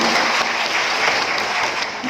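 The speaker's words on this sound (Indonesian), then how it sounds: "Tepuk tangan saya Pak Gubernur" Steady crowd applause at a government program launch in East Nusa Tenggara, Indonesia, clapping for the governor; dense, loud and continuous throughout with no break.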